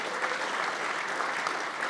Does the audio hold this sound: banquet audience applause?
yes